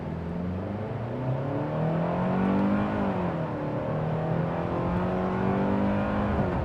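A 2025 Hyundai Santa Cruz SEL pickup revs in sport mode, its engine note rising and falling steadily through a continuous drone on a test drive, with no voices.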